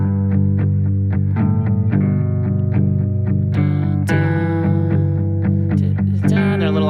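Electric guitar strummed over a looping G backing track with effects and slight distortion, the rhythm a little off time; steady, close and alone, no voices.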